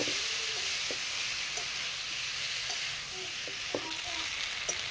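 Pointed gourd with turmeric and ginger-garlic paste sautéing in a pan gives a continuous bright sizzle and hiss, broken by occasional light clinks and scrapes of stirring.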